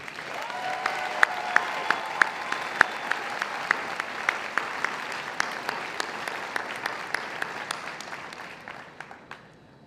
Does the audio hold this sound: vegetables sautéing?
no